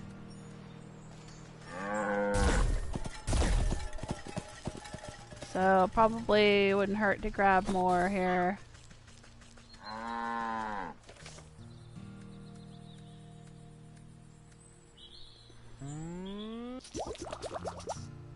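A cow in the game Wytchwood moos several times, close and clear, the calls spread across the stretch with a person talking in between.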